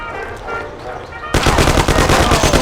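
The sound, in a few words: gunfire in the Mafia video game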